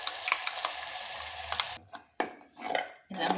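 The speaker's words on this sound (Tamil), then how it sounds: "அது எண்ணெயில் சேர்த்து நல்லா வதக்கி எடுத்துக்கலாம்." Ground masala paste sautéing in hot oil for bottle gourd masala gives a close sizzle, with stirring scrapes and short bursts of frying in separate pulses toward the end.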